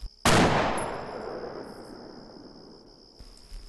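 One loud sniper rifle shot in the Half-Life 2 game: an abrupt crack followed by a long fading echo over a constant high electronic whine, with a faint click near the end and no talking.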